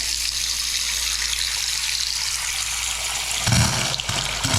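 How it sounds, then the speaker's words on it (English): Water running from a bathroom faucet in a town home, a steady loud rushing hiss that briefly surges and splashes near the end, no voices. "I'm gonna put the water on"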